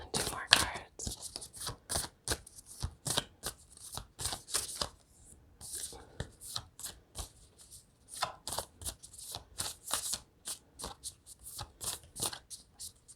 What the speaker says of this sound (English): I'm just going to keep on shuffling.